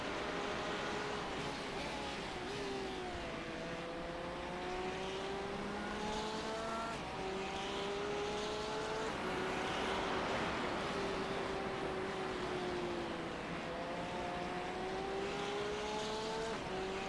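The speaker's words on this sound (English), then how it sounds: "Looks like some hypercars starting to catch." Hypercars race around the circuit at Watkins Glen during a six-hour endurance race, engines rising and falling in pitch as cars pass continuously and loudly, with no one speaking over it.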